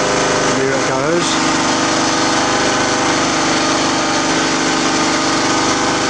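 Small engine-driven generator running steadily and loud throughout, a dense mechanical drone with a brief pitch wobble near the start as it settles back toward idle; no voices.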